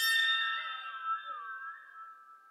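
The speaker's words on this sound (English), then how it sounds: "Now you put water in it, and it sounds like this" A waterphone with water inside, played on the CinePerc PRO percussion library: one bright metallic ring that sustains and slowly decays, its pitch wobbling and bending as the water shifts.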